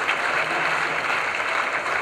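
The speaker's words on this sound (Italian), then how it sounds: "Un applauso!" An audience at a June 2013 dance recital at the Sporting Club Favara claps in a dense, steady burst of applause, loud and even throughout.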